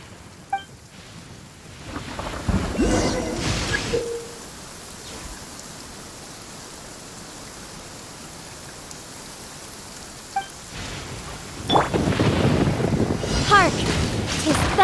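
Thunder rumbles and rain pours in the game Genshin Impact, a steady wash of rainfall broken by two loud thunder bursts, one early and a longer rolling one near the end.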